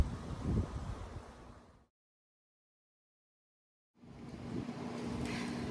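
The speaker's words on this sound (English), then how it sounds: "it's a little bit windy out here, so there may be some extra noises in the background" Steady outdoor wind rushing across the microphone in a Texas backyard garden, broken by a stretch of total silence midway, then the gusty rumble resumes.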